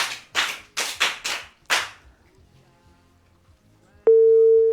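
About six sharp, close claps from children in a radio studio, given for a blind man in a story, spaced quickly then fading, followed after a pause by a steady electronic telephone tone.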